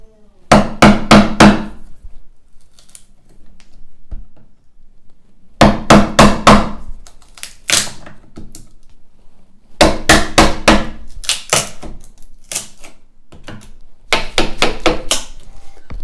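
A hammer drives an old chisel into a wooden stair rail during a teardown. Loud, close blows come in quick bursts of several strikes, with short quiet pauses between the bursts.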